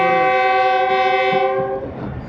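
The Khushhal Khan Khattak Express on the ML2 route sounds a loud, sustained horn close by, which cuts off near the end and leaves rumbling rail noise.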